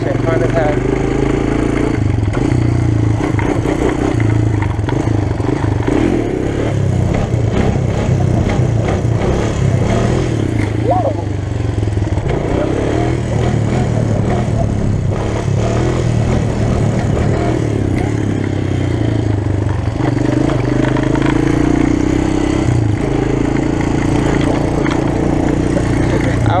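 Honda TRX250X ATV engine revving hard while riding, a loud, continuous rasp that rises and falls with throttle, close and constant, with a voice talking over it at times.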